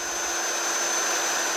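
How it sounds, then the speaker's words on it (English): A power grinder whines steadily and loudly up close as it grinds on the front and rear upper control arm brackets of a 1999 Chevy Silverado being fitted with a 6-inch lift kit. "You'll also need to do some grinding on the front and rear upper control arm brackets"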